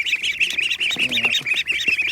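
Farm ducks raised alongside goslings call at evening, a close flock of high, rapid peeping and chattering squawks in continuous overlapping bursts.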